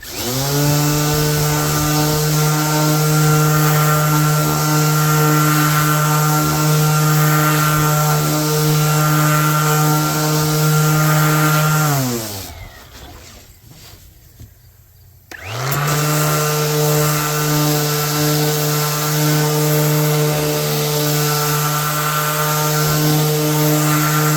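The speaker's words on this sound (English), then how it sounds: "let's go ahead and sand these down to 220." A power sander working wooden shelves down to 220 grit gives a loud, steady motor whine that runs continuously, cuts out for about three seconds, then starts again and carries on to the end, with no talking.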